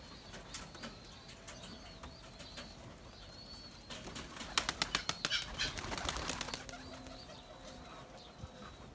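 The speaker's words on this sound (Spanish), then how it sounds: "voy a soltar los pichones ahora y voy a soltar otros que nunca he soltado hoy" Young pigeons are released outdoors, their wings clapping and flapping in a rapid burst midway, over steady breezy background noise and faint birdsong.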